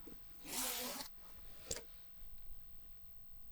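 A zipper on a sewn quilted jacket is drawn up in one quick, close rasp. A small click of the pull follows, then quiet handling rustle.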